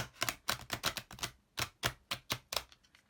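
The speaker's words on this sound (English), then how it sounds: "I'm going to try and shuffle these enormous cards" Large, thick oracle cards being shuffled by hand, a quick run of crisp slapping riffles in uneven bursts, close and fairly quiet, with nothing else heard.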